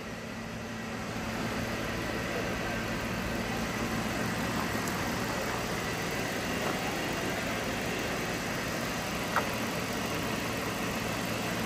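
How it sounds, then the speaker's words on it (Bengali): A Toyota Corolla's engine idles steadily for about twelve seconds, a low, even hum that holds at the same moderate level throughout with no revving. "আলহামদুলিল্লাহ ইঞ্জিনের সাউন্ডটা ভালো"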